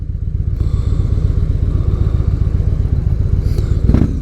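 Victory Gunner cruiser motorcycle engine with a steady, loud, close-up low throbbing idle that rises slightly near the end as the throttle opens.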